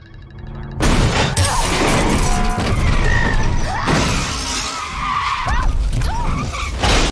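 A car skids and crashes in the film 10 Cloverfield Lane: a loud sudden impact followed by screeching tires, crunching metal and shattering glass, sustained and close for several seconds before cutting off.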